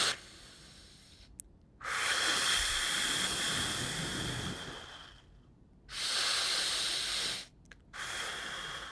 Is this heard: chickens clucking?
no